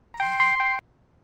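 A telephone gives one short electronic ring of about half a second, a bright warbling tone heard close and clear with no talk over it.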